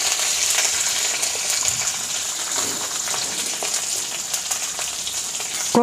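Onions frying in hot oil with mustard seeds and curry leaves for an ivy gourd (kovakkai) fry give a steady, close, bright sizzle with scattered pops and crackles. A sharper burst comes right at the end.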